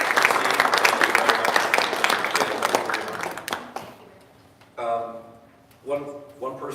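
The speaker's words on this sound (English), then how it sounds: "let's give a thank you applause" An audience at a seminar breaks into thick, sustained clapping that fades after a few seconds, then a speaker's voice takes over in a quieter room.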